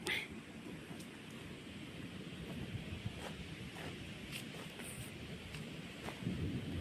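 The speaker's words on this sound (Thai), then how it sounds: "วอฟ้าร้องมาแล้ว" Thunder rumbles low and distant through steady rain pattering outdoors near rural rice fields and an overflowing weir, the storm fairly faint and continuous.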